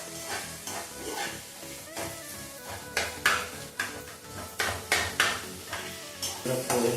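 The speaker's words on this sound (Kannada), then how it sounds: "ಫ್ರೈ ಮಾಡ್ತಾನೆ ಇರಬೇಕು" Carrot rice frying in a pan, a soft continuous sizzle broken by repeated scraping and clattering strokes of a spoon against the pan as it is stirred, growing louder and more rhythmic in the second half.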